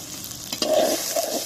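Green chilies tossed into chicken rezala frying in a pot: a sudden loud sizzle erupts as they hit the hot oil, then continues crackling with stirring noises close up.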